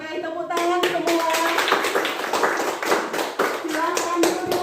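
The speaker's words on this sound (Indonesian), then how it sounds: "tepuk tangan semua" Children in a Year 4 classroom clap together in a quick burst of hand claps that stops briefly and then resumes. Young voices chatter and call out over the clapping, and it stays close and fairly loud throughout.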